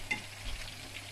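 Food for pondu is stirred in a frying pan with ordinary cooking oil, giving a short burst of close sizzling and scraping.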